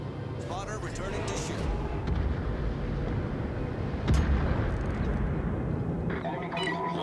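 Warship guns fire in World of Warships, deep booms and rumbling blasts over a continuous roar of game noise, with one sharper report standing out partway through.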